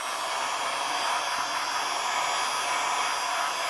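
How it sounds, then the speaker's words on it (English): A heat gun blows steadily to heat a broken Huawei Fusion U8652 phone digitizer screen, a continuous loud airy hiss without pause for several seconds. "Remembering not to leave the heat gun in one spot."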